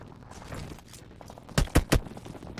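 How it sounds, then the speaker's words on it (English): Shotgun gunfire in a PUBG Mobile tournament match: three sharp, loud blasts in quick succession near the end, after a quieter stretch of low background noise and faint movement. "Walks right into the shotgun there."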